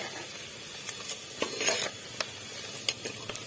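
Onions sizzle in hot ghee in a home kitchen pan, a steady low fry hiss with a few sharp scraping stirs and clinks scattered through it, fairly close and without talk.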